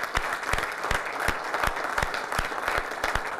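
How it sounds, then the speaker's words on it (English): An audience applauds after a keynote address at a 2006 security conference, with steady close clapping from a sizable crowd that holds throughout with no voices over it. "let's all give them a round of applause."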